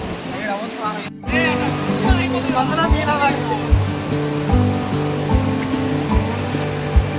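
Steady rushing water of a full waterfall near Pushpa Bridge roars throughout, with people talking over it and a few dull periodic thumps.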